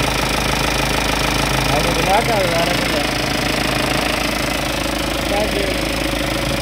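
Diesel engine of a Mahindra Max truck idling with a steady, rough mechanical chug, close and loud, while someone talks over it.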